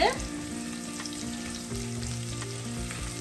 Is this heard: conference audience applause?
no